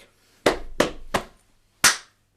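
Four sharp percussive hits from a body percussion exercise, three evenly spaced then a gap before a fourth, close and bright like hand claps and slaps, with no backing track.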